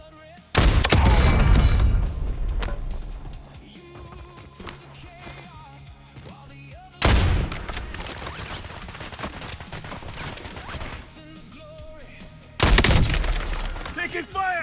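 Three loud, close bursts of gunfire in the video game Warzone, separated by quieter stretches of game ambience and music-like tones.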